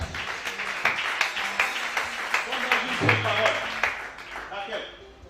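Church congregation applauding, a brisk wash of many hands clapping in a loose rhythm that swells mid-way and fades toward the end, mixed with voices.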